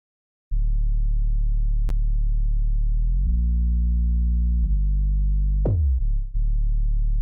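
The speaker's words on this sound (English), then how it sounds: "just a sine wave with a bit of distortion, put the right harmonics in there" A deep, sustained sine-wave bass synth with gritty distortion, holding low notes with a few pitch changes and short glitchy blips, loud and alone.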